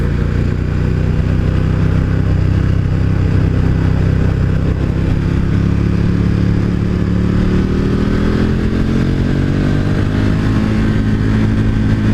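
A 2018 KTM 1290 Super Duke motorcycle is ridden with its engine droning loud, close and unbroken throughout, the pitch climbing toward the end as it accelerates; no one speaks.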